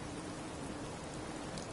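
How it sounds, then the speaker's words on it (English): Steady rain falls in Fallout 4, a soft, even hiss of drops on surfaces with no breaks, faint and continuous throughout. "Just thinking how wonderful it'd be to get out of this infernal rain."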